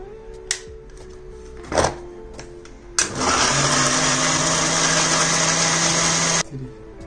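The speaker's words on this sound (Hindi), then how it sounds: "पानी डाल के फिर मिक्सी चला देंगे" A kitchen mixer grinder churns cream with water into butter, starting after a few clicks and knocks and running as a loud steady whir for about three seconds before stopping.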